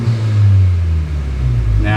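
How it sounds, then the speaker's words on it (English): Honda Civic Type R FK8 with an upgraded aftermarket exhaust, a loud, steady low droning rumble while driving around the block, swelling slightly near the end. "You guys can hear that exhaust already."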